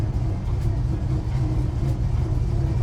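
A 1971 Chevy C10 stepside short-bed pickup with a 350 V8, four-barrel carb and four-speed manual pulls away in first gear, a steady low engine rumble close inside the cab.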